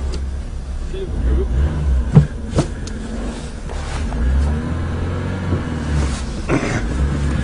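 Small manual car with a worn, high clutch driving along, a steady low engine rumble running throughout with a few knocks and bumps, speech heard over it.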